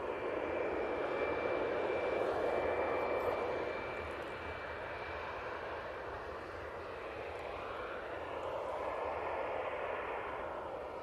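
An Easyjet Airbus A320-200 jet arriving at Manchester Airport, its engines roaring loudly at first and then easing into a broad, sustained drone heard from a moderate distance.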